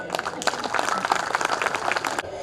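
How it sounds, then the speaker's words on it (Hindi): Audience clapping at a grand foundation-stone ceremony, a dense burst of many hands that runs steadily for about two seconds, then cuts off abruptly. "तो तालियां महिलाओं की तो बनती है।"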